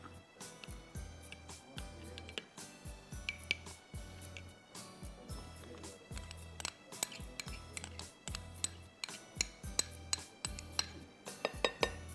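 A utensil clinks and scrapes against a bowl in a fast, steady rhythm while cocoa is stirred into milk for a chocolate banana cake, close and continuous with sharp repeated taps.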